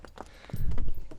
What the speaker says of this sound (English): donkey crossing.